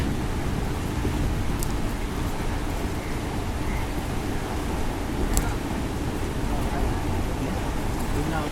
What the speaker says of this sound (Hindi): बारिश जो है वो शुरू हो गई